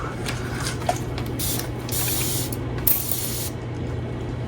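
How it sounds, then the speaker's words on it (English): Alcohol misted from a spray bottle onto freshly poured epoxy resin in a matte mold comes through as several short hissing bursts, close and fairly loud over a steady low hum, with small mechanical clicks from the trigger. "All right, I'm gonna spray it with alcohol."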